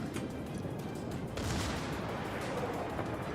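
Naval guns fire in a World of Warships battle, a dense rolling barrage of distant booms that swells partway through and keeps rumbling steadily to the end.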